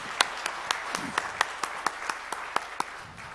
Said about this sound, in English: A big round of applause to Rajiv ji.